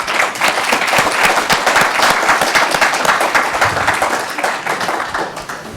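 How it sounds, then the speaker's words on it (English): An audience at a public safety event applauds a newly introduced official, a loud, close, continuous patter of clapping hands that eases slightly toward the end. "if you give him a nice round of applause"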